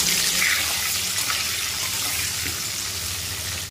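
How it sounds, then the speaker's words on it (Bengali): Potato pieces frying in hot mustard oil with salt and turmeric in a kadai, giving a loud, continuous sizzling hiss that holds steady until it cuts off at the end. "তেলের মধ্যে সামান্য লবণ, সামান্য হলুদ দিয়ে আলুগুলিকে লাল লাল করে ভেজে নেব।"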